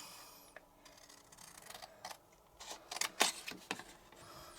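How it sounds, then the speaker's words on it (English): Scissors snipping through stamped card during an easel card craft project, a few quiet crisp cuts clustered near the middle, faint and close with no talking. "So now grab my scissors."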